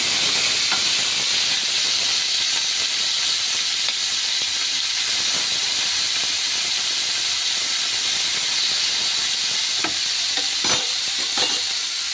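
Small fish fry in hot oil, a dense continuous hissing sizzle that stays loud and even throughout, with a few faint clicks from a utensil toward the end.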